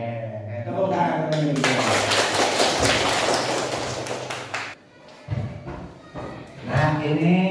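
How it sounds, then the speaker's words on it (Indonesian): A class claps hands in applause, a dense burst of many hands clapping for about three seconds, framed by a teacher's talk before and after, with some scattered claps and voices trailing in the gaps. "tepuk tangan."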